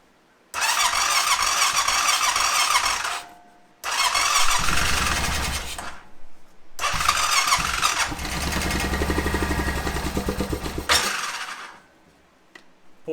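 A Honda Rincon ATV engine cranks over in three long, loud bursts that fail to catch, separated by short pauses, with a squealing edge and no talking.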